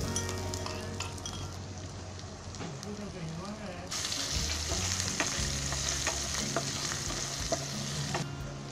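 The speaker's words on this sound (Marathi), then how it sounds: "आता त्याच्यामध्ये अद्रक लसूण जे मी बारीक केलं आहे ना खलबत्त्यामध्ये, ते टाकते." Ginger and garlic crushed in a mortar and pestle sizzle and fry in a hot pan, a steady close crackle that grows louder midway as more oil spits, with a little stirring throughout.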